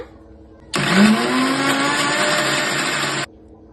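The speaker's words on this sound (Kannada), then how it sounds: "ಗ್ರೈಂಡ್ ಮಾಡ್ಕೊಳ್ಳೋಣ." A mixer grinder runs for about two and a half seconds, grinding turmeric, cumin, sambar powder, chilli powder and a little water into masala for sambar, with a loud, steady whirring motor that starts abruptly and cuts off sharply.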